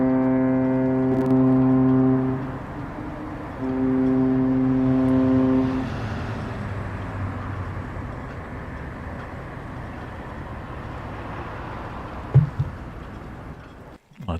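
Cruise ship horn sounds three long, deep blasts as the vessel departs port and reverses, the first two loud and drawn out, followed by a quieter harbour rumble with a brief knock near the end.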